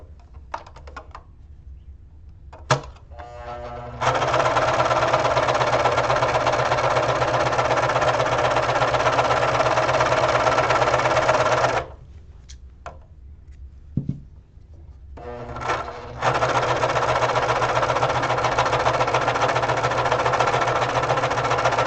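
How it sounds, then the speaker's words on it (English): A serger (overlock sewing machine) runs fast through fabric for reusable cotton rounds, a steady loud whirring hum in long bursts that pause briefly and restart, alone without talk. "the best part about a serger is that you don't really have to finish your seams because it finishes it for you"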